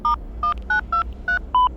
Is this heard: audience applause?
no